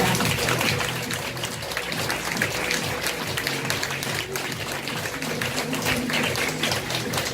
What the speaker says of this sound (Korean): 여러분들 앞으로 모실 때 힘찬 박수와 함께 모셔보도록 하겠습니다